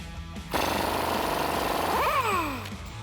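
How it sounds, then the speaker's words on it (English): Loud impact wrench hammering off a 36mm axle nut on a 2009-2018 RAM 1500 truck, a continuous rattling burst of about two seconds with a whining pitch sweep near the end, close up. "we can now take off our axle nut with a 36mm socket"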